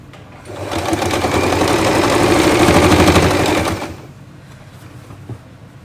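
A sewing machine stitches the waist of a pair of pants in one loud, fast, even mechanical rattle lasting about three and a half seconds, then stops into quiet room noise.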